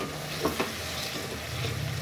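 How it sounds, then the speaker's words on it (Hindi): Potatoes frying and being stirred in an egg gravy masala, a steady close sizzle with a couple of soft scraping stirs and a slight swell of crackle toward the end, no voices. "अब आलू डाल के इसको हम भून लेते हैं।"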